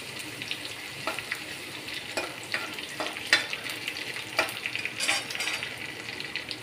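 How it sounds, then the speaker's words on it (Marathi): Crushed garlic paste sizzles softly in oil as it is stirred through a pan of vegetables, a quiet steady fry with repeated scraping and clinking stir strokes and no voices. "1 चम्मच लसूणची मी जी पेस्ट ठेचून घेतलेली आहे ती पण ॲड करून घेते. छान मिक्स करायचं आहे आपल्याला."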